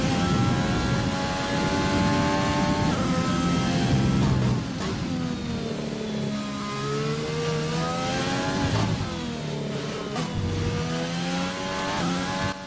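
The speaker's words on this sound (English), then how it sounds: "Downshifts sound a little bit different in the Renault." Renault Formula 1 car engine from the F1 2020 racing game on the Austria circuit, a loud continuous high-pitched whine that drops through repeated downshifts, steps falling and rising again as revs change, with no talk over it.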